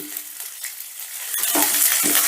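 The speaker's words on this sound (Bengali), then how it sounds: "এবার নুনটা দিয়েও সমস্ত সবজিটা আর একটু ভালো করে ভেজে নেব" Mixed vegetables with salt being stir-fried for veg pulao in a pan, a quiet sizzle that swells louder about halfway through, with scraping stirs and no voices.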